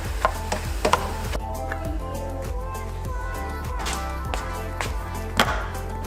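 Onions are chopped on a cutting board in a home kitchen, a run of quick, uneven knife knocks, close and moderately loud, over a low steady background hum.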